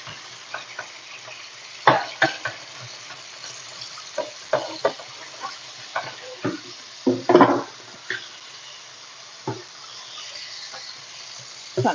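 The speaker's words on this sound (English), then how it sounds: "I'm trying to wash this pan out so I can." Baking pan being rinsed out with running water, with irregular splashes, clanks and sloshing bursts at close range, scattered unevenly through the stretch with no talk.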